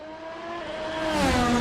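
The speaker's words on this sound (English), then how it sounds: "Love the way that these VRC cars sound." Virtual race cars in a sim racing game sweep past the start-finish line, their engine note rising and swelling as they approach over a second or two, with no talk.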